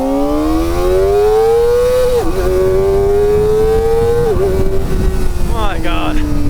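A 2024 Kawasaki Ninja ZX-4RR engine revving up loud and high through the gears, with its pitch climbing steadily and dipping briefly at two upshifts, heard close over constant wind roar.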